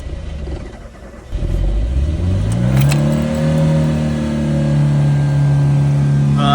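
An old van's engine cranks and catches, then settles into a steady idle with rising and falling revs, close and loud.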